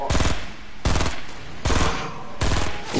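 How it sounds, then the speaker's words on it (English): Gunfire in a video game firefight, where the shots come from an enemy sniper: four loud, sharp reports spaced roughly evenly, each ringing off with a rumbling tail. "This guy's sniping at us."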